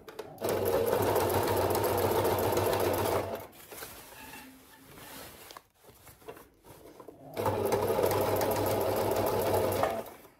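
A sewing machine stitches through a denim jeans waistband in two steady bursts of rapid, even mechanical hum and chatter, close and loud, with a quieter pause of fabric handling between them.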